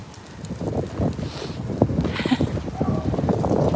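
Strong cold wind buffeting the microphone in an outdoor street setting, a steady rushing roar with gusty low thumps, loud and continuous with no talk.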